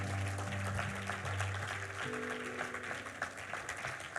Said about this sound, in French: Est-ce qu'on peut acclamer le Seigneur pour sa parole?